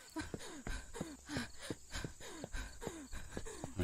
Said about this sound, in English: There she goes again with her deep, heavy breathing.